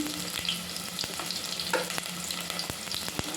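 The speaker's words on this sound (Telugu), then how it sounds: "ఆయిల్ వేడెక్కింది కదా ఇందులో పచ్చిమిర్చి ఆనియన్స్ వేస్తాను" Green chillies and onions frying in hot oil, a soft continuous sizzle and crackle with scattered sharp pops, close but quiet.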